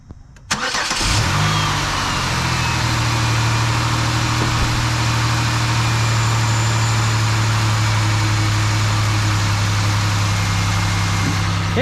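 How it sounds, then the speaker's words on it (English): A car engine cranks and catches after a cold air intake install, then settles into a steady, even idle that holds close and fairly loud with no talk over it. "start it up"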